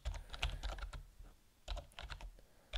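Quick clicking keystrokes on a computer keyboard as an email address is typed, two bursts of rapid taps separated by a short pause, close and quiet.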